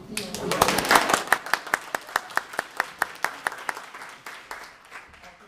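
A school facilities meeting audience applauds the new high school principal of Winton Woods, beginning as a dense burst, then thinning into a few loud, evenly spaced single claps that fade out.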